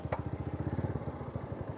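A hot Mojo 200 motorcycle engine idles nearby with a steady, rhythmic low thumping pulse, and no voices are heard.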